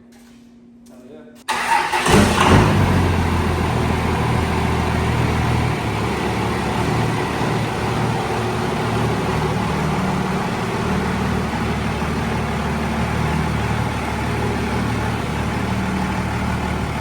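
A truck engine cranks and catches inside a repair shop, then settles into a loud, steady idle that runs on without pause for the rest of the stretch.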